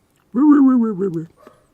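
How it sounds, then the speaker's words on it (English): A dog outside gives a single drawn-out bark that trails into a whine, heard close and clear against silence, followed by a faint short yip. "whoever's annoying that dog outside, stop"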